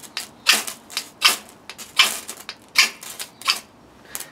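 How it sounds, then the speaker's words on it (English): Knife blade scraped along a ferro rod fire steel, giving a series of sharp, bright rasping strokes about every three quarters of a second, close and fairly loud with short pauses between. "The first is by scraping your knife along the fire steel, which works very well."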